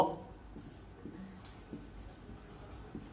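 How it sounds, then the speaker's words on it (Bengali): Pen strokes on paper during a handwritten accounting entry, faint soft scratching in short, irregular bursts against a quiet room. "এটা লিখবো"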